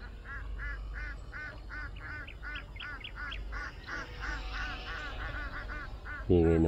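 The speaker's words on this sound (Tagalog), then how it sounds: "Hingay ng mga itik." A flock of ducks quacks in a steady run of repeated calls across the whole stretch, close and fairly loud over an outdoor rumble, with a louder honk-like call breaking in at the end.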